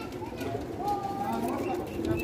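Several pigeons of an old 35 breed with grey eyes coo softly in a low, continuous murmur at close range, with a steady background of other sounds.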